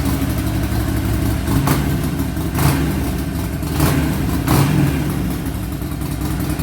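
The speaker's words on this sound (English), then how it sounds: "Sounds like a happy motorcycle to me." A 2009 Harley-Davidson 48 1200 XL Sportster runs with a loud, steady mid-pitched engine rumble, swelling in several short throttle blips over the idle, close by and alone.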